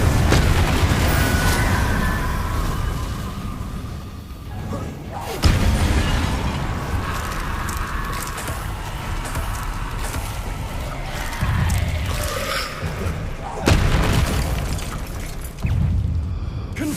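Fire spell explosions from the Hogwarts Legacy video game, with repeated loud booming blasts and bursts over a dense, busy game soundscape of combat effects.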